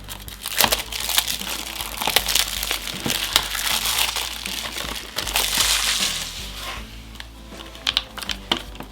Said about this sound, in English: So I go in at the bottom, cut that plastic.